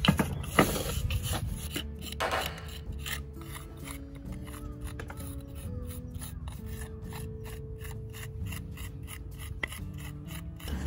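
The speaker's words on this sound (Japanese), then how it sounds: "このモルタルより5ミリぐらいかそのぐらい出っ張らすとこのレンガの輪郭がこう出てくるんで、こうあえて私の場合は削っていきます。" Mortar being scraped back between the bricks of a garden flower stand, a steady dry rasping and scratching that repeats in short strokes, close up and fairly quiet, with no talking.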